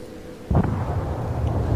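A torpedo strikes a ship in World of Warships, a sudden loud booming blast followed by a rumbling roar that lingers.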